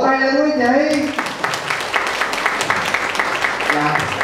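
Audience applause at a Vietnamese talk on living longer, a broad steady patter of many hands clapping that follows a brief held vocal tone and continues without a break.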